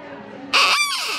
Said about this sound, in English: he wanted to show you the duck call